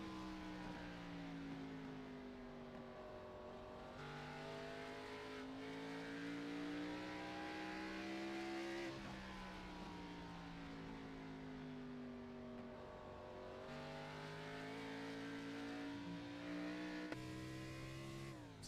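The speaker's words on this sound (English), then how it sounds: "you can hear how long Daniel Michel is off the throttle here" Race car engine note in the IOS Cup Series, a steady drone whose pitch repeatedly sags and climbs as the driver eases off the throttle to save fuel, sustained and fairly loud throughout.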